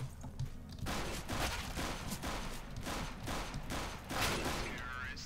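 Counter-Strike: Global Offensive gunfire rattles in rapid bursts, a dense run of sharp shots repeating across the stretch at a moderate level, with voices faintly underneath.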